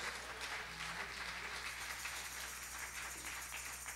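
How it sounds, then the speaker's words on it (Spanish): A church congregation claps for the King during a Spanish-language service, a dense, even wash of applause that fills the room throughout without a break. "Dale un aplauso al Rey con todo tu corazón"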